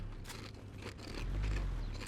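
Crunchy biting and chewing from a player eating mushrooms in the survival game Rust, several close, rhythmic crunches over a low rumbling background.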